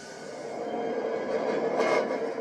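Santa Fe 3751 steam locomotive train moving toward Hobart Yard, a steady broadband rumble and rolling rail noise at moderate distance, with a brief brighter burst near the end and no talk.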